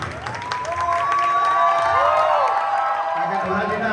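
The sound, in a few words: audience applauding at a garba class cake ceremony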